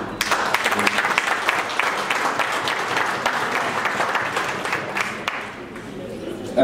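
Audience at a 50th birthday celebration claps steadily for several seconds, dense and fairly close, gradually thinning near the end with some scattered voices underneath.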